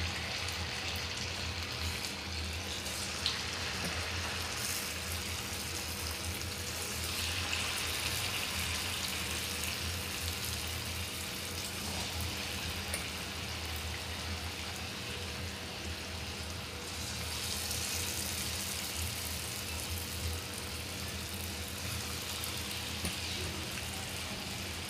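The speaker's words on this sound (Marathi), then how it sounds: "आता तेल चांगलं तापलं की आपण यात भजी सोडूया।" Urad dal bhajji fritters sizzle steadily in hot oil, a continuous close crackling hiss that holds evenly throughout with no talking.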